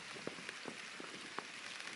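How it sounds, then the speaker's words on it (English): Gentle rain tapping on a tent at a wild camp at night, scattered soft patters over a steady faint hiss, close and quiet with no voices. "I can hear the rain"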